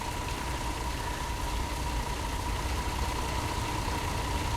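Bus engine idling in the Fernbus Simulator game, a steady low droning rumble with a faint constant hum, unchanging and continuous with no voices.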